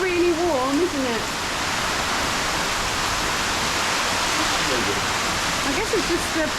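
Heavy thunderstorm downpour at John's Pass, Madeira Beach, Florida, a dense, steady roar of rain pounding surfaces throughout, with people talking briefly over it near the start and again near the end.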